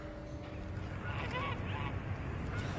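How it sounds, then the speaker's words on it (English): Several geese honk in an outdoor Los Angeles setting, the calls clustering midway and overlapping one another against steady low background noise, moderately close and with no voices. "Well, those are geese."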